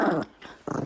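Puppies give two short, low growls separated by a brief pause, close and fairly soft, with no talking.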